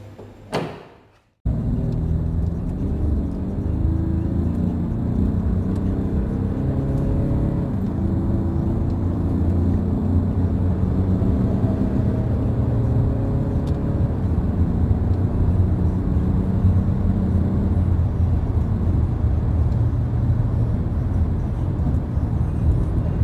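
DS 7 Crossback 2.0 HDi 180 driving at speed, a steady droning engine and road hum from inside the cabin after a brief thump at the start, continuous and even, with no talk.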